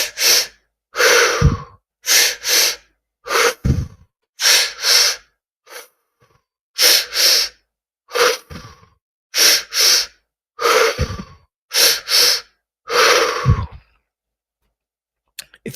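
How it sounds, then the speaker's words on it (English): A person takes deep pranayama breaths during a breathing exercise, a series of loud, close, forceful inhales and exhales in a steady rhythm with short gaps, no talking. "Keep breathing."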